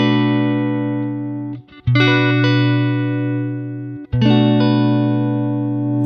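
An electric guitar with 50s-style volume wiring rings out a sustained distorted chord, then is restruck twice as the volume knob sweeps. The level dips and swells while the tone stays bright, loud and close, with no talking.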